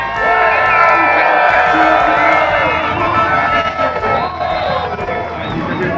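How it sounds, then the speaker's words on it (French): Crowd cheering and whooping at the Bol d'Or motorcycle endurance race starting grid, a loud swelling roar of many voices with some nearby talk mixed in. "Public qui veut l'or, vous pouvez applaudir."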